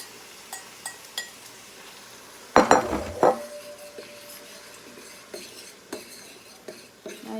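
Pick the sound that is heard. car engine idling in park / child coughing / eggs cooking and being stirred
eggs cooking and being stirred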